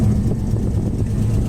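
A 1966 Ford Mustang engine idles at a steady low rumble, close and loud, an even throb with no revving and nobody talking over it.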